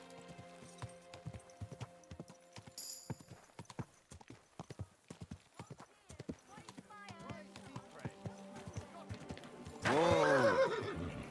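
Horse hooves clip-clop in a steady walking rhythm in Kingdom Come: Deliverance II, with a loud neigh near the end, close and clear, while someone speaks calmly over the hoofbeats.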